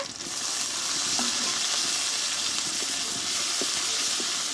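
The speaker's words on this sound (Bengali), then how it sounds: "একসঙ্গে একটু কষে নেবো সবগুলো" Onion, ginger, garlic, green chili and tomato frying together in a pan for egg ghugni, a steady close sizzle with occasional soft scraping of a spatula throughout.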